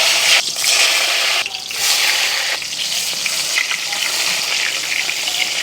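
Eggplant frying in hot mustard oil makes a loud, close, continuous hissing sizzle with a few brief dips as pieces shift in the pan, with no talking.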